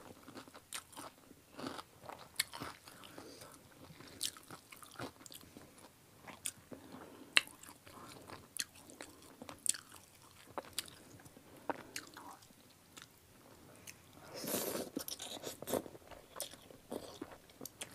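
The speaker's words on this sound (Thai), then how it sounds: "แซ่บ แคบหมูกรอบกันแซ่บแซ่บ" Crispy fried pork rinds crunch loudly between the teeth, up close, in a long run of irregular bites and chewing. Brittle cracks mix with softer squishy mastication and one louder burst of crunching near the end, with no speech.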